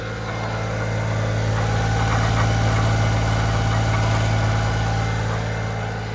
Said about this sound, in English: So it idles up a little high when you first start it up.